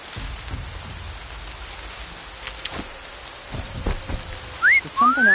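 Steady rain falls in Horizon Zero Dawn as a dense, even hiss with scattered heavier drops, joined near the end by a few short rising whistle-like tones.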